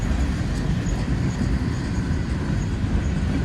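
Freight train cars, some carrying scrap metal, roll steadily past at close range, making a continuous loud rumble and wheel noise with no break and no talking.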